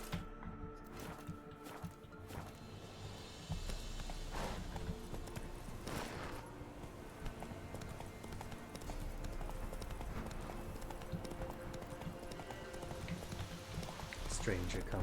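Roach the horse in The Witcher 3 video game, hooves clip-clopping steadily at close range across the Velen wetlands, under continuous game ambience with some speech.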